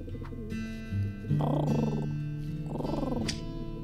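A pigeon coos in a couple of soft, throaty phrases inside the cat adventure game The Purring Quest, heard over steady tonal game music.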